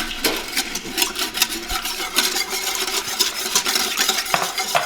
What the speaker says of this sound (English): we pour that in and just whisk it up to get the browned bits on the bottom